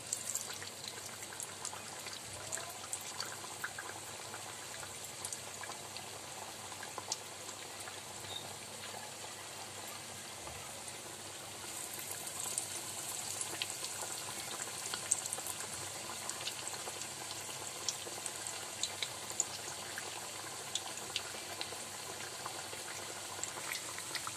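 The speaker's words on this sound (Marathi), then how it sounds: "मी आता हे असे बनवून 1-1 तेलात सोडणार आहे।" Dal vada dropped into hot oil for deep frying, giving a steady, quiet bubbling sizzle that runs unbroken and grows slightly fuller partway through, with no voices.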